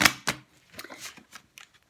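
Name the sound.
shuffling a deck of reading cards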